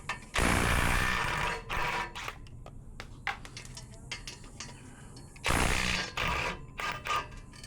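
A hand ratchet works loose a rear header bolt on a twin-turbo S650 build, with loud bursts of rapid clicking that stop and start against a busy garage background.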